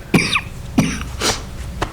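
Several sharp coughs from a person attending a public conservation commission meeting, four bursts spaced across two seconds, close and clear in a quiet room with no talking.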